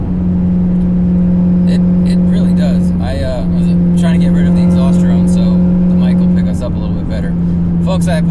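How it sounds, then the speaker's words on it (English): The loud 2003 Cobra track car runs with a steady, heavy engine and exhaust drone close by, swelling in a couple of throttle surges, while a person talks over it throughout. "it's a really loud car"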